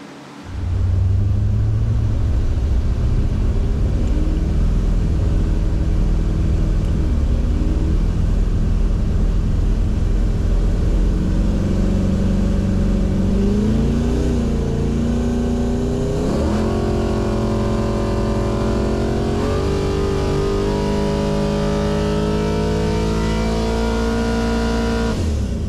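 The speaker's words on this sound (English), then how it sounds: "That's it for the VL's run on the dyno." A nitrous-fed Holden 355 V8 in a VL Calais roars on a dyno, holding a loud steady rumble before climbing through rising revs with gear-like steps and sustained high-pitched wailing near the end.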